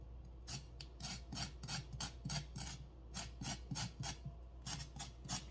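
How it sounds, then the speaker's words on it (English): A kitchen knife scrapes raw carrots for a one-pot Jamaican chicken soup, giving rapid repeated rasping strokes in steady bursts, close and fairly quiet, with no talking. "Scrape your carrots."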